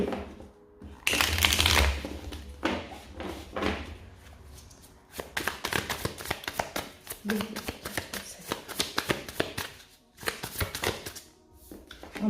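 Tarot cards being shuffled close up, a run of dense papery riffles and flicks with brief pauses, while someone talks over parts of it.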